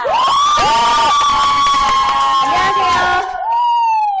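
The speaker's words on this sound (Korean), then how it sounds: "다 함께 박수로 환영해봅니다." A church youth worship audience welcomes a guest with a loud, sustained wave of cheering and whooping voices that holds steady before briefly dipping and rising again near the end.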